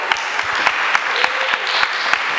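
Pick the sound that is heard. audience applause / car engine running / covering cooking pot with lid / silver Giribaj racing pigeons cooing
audience applause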